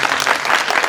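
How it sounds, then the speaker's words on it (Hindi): An audience claps during a Shrimad Bhagwat Katha religious gathering, a brief, loud burst of dense, fluttering applause with no voices over it. "भैया के लिए ताली बजाइए।"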